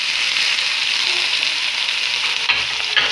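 Onion, tomato and green chilli go into a pan of frying okra, bringing a loud, steady sizzle with a couple of brief stirring clatters near the end, close up.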